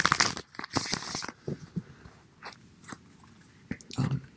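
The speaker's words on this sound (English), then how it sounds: "I'm just gonna keep shuffling these cards for a bit." Tarot cards being shuffled close up, soft irregular riffles, crinkles and taps, quiet and intimate with uneven bursts.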